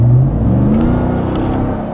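Cabin view of a RAM TRX with its stock exhaust: a loud, close engine drone with a rising supercharger whine over it as the truck pulls, and no voices.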